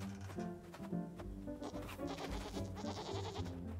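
Sheep bleating in the video game BLANC, a series of wavering, nasal bleats following one another closely, rising and falling in pitch, fairly quiet and alone.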